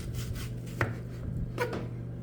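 A knife cuts through a red onion on a board, giving two distinct, fairly quiet chopping strokes spaced under a second apart, with no talking.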